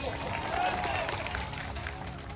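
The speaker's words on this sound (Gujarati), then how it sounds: "અહીંયા જેટલા પણ પોલીસ અધિકારીઓ છે એમના માટે જોરદાર તાળીઓ પાડી લો" A crowd at a political protest rally claps for the police officers on duty, a muffled and fairly distant wash of applause with a voice and crowd noise mixed in.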